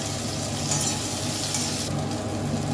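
Small fish seasoned with salt and turmeric powder fry in hot oil. A steady, fairly loud sizzle runs throughout without a break, and nobody speaks.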